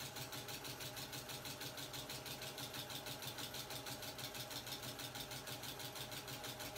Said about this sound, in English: I'm just going to sew a few inches.